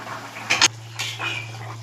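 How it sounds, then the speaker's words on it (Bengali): A lid lifted off a cooking pot of tangra fish curry, two brief metallic clinks close by, then a soft scrape and the faint hiss of simmering. "আমি এবার ঢাকাটা উঠিয়ে দিচ্ছি।"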